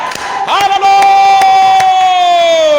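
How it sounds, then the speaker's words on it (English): Church congregation shouting and cheering in praise during a sermon, a loud close burst of voices with a sustained high cry ringing out over scattered claps. "Somebody want to shout? Give him a shout!"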